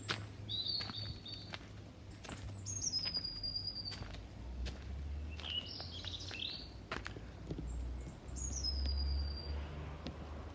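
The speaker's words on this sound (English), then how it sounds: "Let's listen to some birdsong." Birdsong outdoors: several thin, high chirping phrases repeat at intervals over a faint low background hum, soft and somewhat distant.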